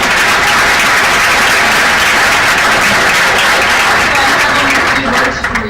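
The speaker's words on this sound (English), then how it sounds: "Let's give her another round of applause." A graduation audience gives Ms. Collins a loud, close, sustained round of applause, dense overlapping claps filling the room and tapering slightly at the very end.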